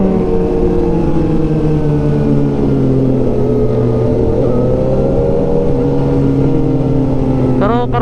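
A Kawasaki ZH2 motorcycle fitted with an Austin Racing exhaust revs loudly at close range, its engine drone holding steady and rising in pitch throughout.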